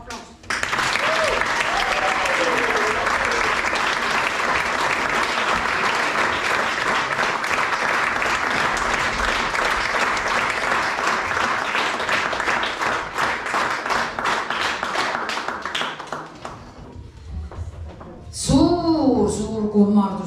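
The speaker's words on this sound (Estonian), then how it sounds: "Aplaus!" Long sustained audience applause in a village community hall at a dance group's 25th jubilee celebration, loud dense clapping with some rhythmic unison that fades out before voices and cheers rise at the end.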